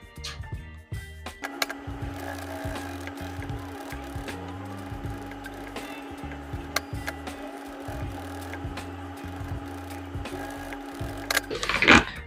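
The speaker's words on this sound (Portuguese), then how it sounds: "eu vou levar na máquina e eu vou passar uma costura em cima dessa linha do coração" Sewing machine running steadily as it stitches along a pinned heart-shaped outline on fabric for a beginner's zippered pouch; a continuous mechanical hum with rhythmic low pulsing, ending in a brief sharper burst of handling noise.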